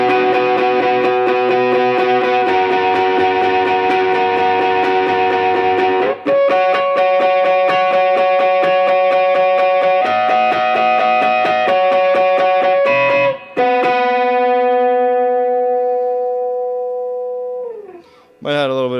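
An overdriven electric guitar plays sustained, distorted chords and riffs, loud and continuous, with a few brief breaks before ringing out at the end.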